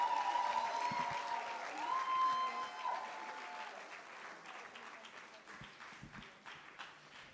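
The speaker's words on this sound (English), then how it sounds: "So give a round of applause for our moms," Audience applause at a women's health and wellness event honoring mothers, a dense wash of clapping from a crowd that is strongest at the start and then gradually tapers off, with some voices mixed in.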